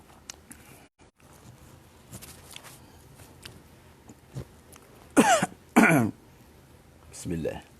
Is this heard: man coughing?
yes